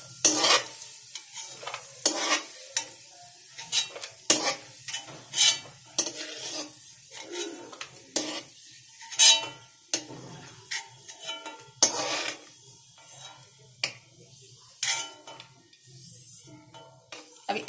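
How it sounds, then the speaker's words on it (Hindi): Dry fruits fry in ghee in a pan for carrot halwa, with steady sizzling and repeated clanks of a spoon stirring against the metal, close and clear with no talking. "देखिए, हल्के हल्के मेवे हमारे फ्राई हो गए हैं,"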